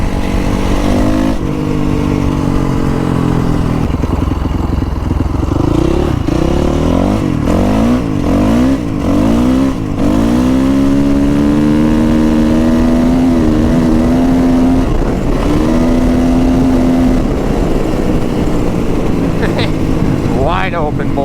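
A Honda CRF450R dirt bike engine roars loud and close, revving up and down in rising and falling sweeps before holding at high RPM, with a rider's voice heard over it.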